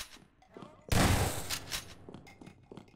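Shotgun blast in a Half-Life 2 mod, a single loud, close boom with a short rattling tail, set among quieter game sounds and faint talk.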